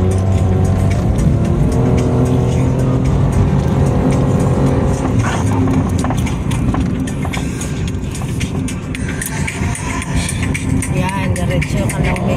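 A motorized tricycle engine drones steadily throughout a ride on a road in Negros, loud and close with constant rumble, while people talk over it.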